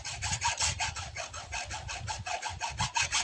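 A sediment water filter cartridge is cut open, a close, rhythmic rasping of repeated back-and-forth sawing strokes, roughly four per second, steady and loud throughout with no talking.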